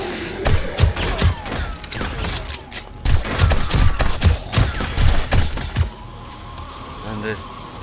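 Turret gunfire in 7 Days to Die during a horde night, rapid bursts of sharp shots in quick clusters, loud and close, pausing briefly before another run, then fading to a quieter mechanical hum near the end.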